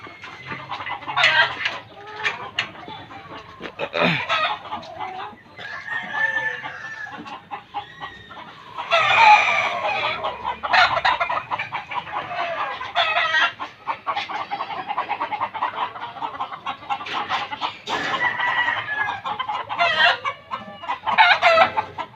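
Fighting roosters cluck and crow nearby in a continuous stream of calls, with several overlapping birds and loud bursts of crowing throughout.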